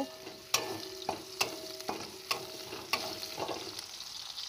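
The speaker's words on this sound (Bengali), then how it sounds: "পেঁয়াজগুলো আমি ভালো করে একটু ভেজে নেব" Chopped onions fry in mustard oil, a soft steady sizzle broken by several sharp scrapes and taps of a spoon against the pan at irregular intervals, close up with no talking.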